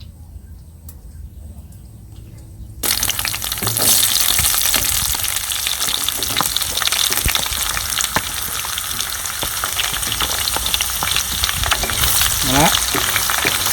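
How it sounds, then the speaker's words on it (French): Sliced onions hit hot fat in a pan with a sudden loud burst of sizzling that settles into a steady, dense crackle, with occasional stirring scrapes and a brief spoken word near the end. "on va maintenant rajouter nos oignons émincés"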